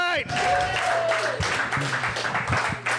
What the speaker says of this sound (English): One more big round of applause for Nick Cartwright.